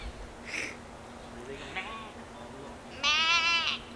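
A person imitates a mountain goat's cry outdoors on rocks, giving a short nasal bleat-like call near the end, loud and close, after quieter vocal sounds over steady background noise.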